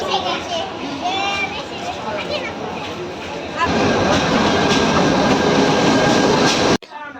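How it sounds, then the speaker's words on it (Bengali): A train arrives at a station, its rumble swelling into a loud, steady roar partway through, while waiting passengers and children talk and play close by. "এই মাত্র ট্রেন আসতেছে"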